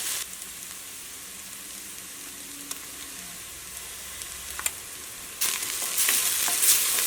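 Ginger garlic paste fries with onions in a pan for a green gram curry, giving a low steady sizzle with a few spoon taps that swells into a louder hiss near the end.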